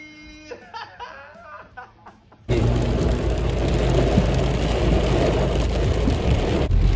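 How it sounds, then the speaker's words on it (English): After a few seconds of laughing voices, steady heavy rain abruptly takes over, a dense, loud hiss of drops pattering close by. "Looks like rain, Ted."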